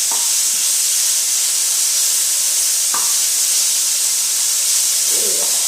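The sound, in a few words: beef stir-frying and sizzling in a pan for beef and broccoli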